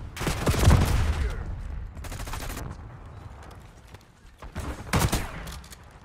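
Bursts of gunfire from the Black Ops 6 video game, several rapid volleys separated by pauses, loud and close, with the final burst near the end.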